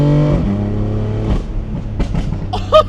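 BMW M4 with a new exhaust easing into second gear, a loud droning engine note that breaks off into sputtering pops and crackles as it shifts, with a sharp burst near the end.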